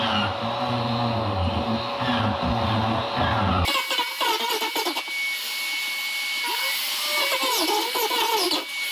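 DeWalt grinder fitted with a diamond cup wheel grinds old glue off a laundry room floor, a loud, close, continuous whine and rough scraping that kicks in sharply after a lower rumbling start and carries on without pause.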